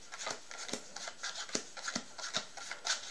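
A deck of playing cards is shuffled by hand in a randomizing shuffle, giving a run of crisp riffling and rubbing bursts at an uneven rhythm, close and fairly soft, with no voices.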